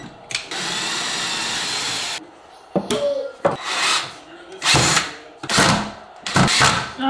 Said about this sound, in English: I'm gonna try and drill. Maybe that fixes it.